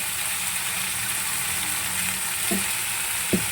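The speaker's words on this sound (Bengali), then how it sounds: "দিয়ে দিলাম সিমগুলো। এবার চলো একটু নেড়ে নিলাম।" Flat beans fry with a steady sizzle in a pan, and two short scraping stirs land near the end.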